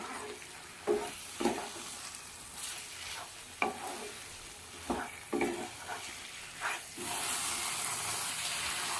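Mutton frying in oil with ground spice paste, the pan being stirred and scraped with irregular spatula strokes over a steady close sizzle, with no one talking.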